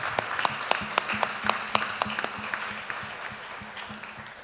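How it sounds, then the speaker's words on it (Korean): Congregation clapping in a Korean church service as thanks and farewell, a sustained roomy wash of applause with sharper rhythmic claps standing out at first and gradually fading. "여러분들에게 인사할 때 그동안 우리 고마운 마음을 박수에 담아서 우리 격려하면서 축복하겠습니다"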